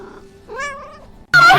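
A cat gives a short, rising meow up close, followed by a brief louder second meow at the very end.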